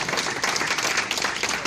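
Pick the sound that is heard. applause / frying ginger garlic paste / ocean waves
applause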